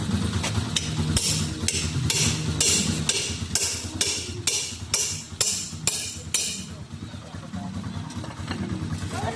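Sharp metallic hammer strikes ring out in a quick series of about a dozen blows, close, with an engine humming in the background.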